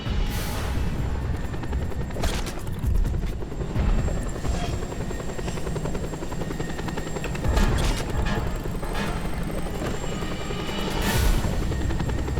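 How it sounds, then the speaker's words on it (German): A helicopter in the Just Cause 2 video game thrums loudly and steadily, its rotor noise dominating throughout, punctuated by a few sharp bursts like gunfire or impacts. "Hubschrauber."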